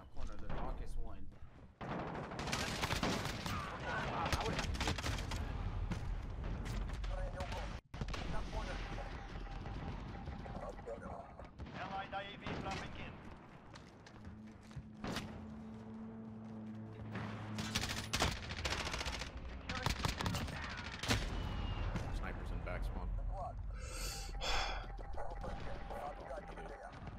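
Dense gunfire from a Call of Duty Modern Warfare multiplayer match with an M4A1 setup, a loud, busy mix of rapid bursts and single shots running throughout with brief lulls, under ongoing player talk.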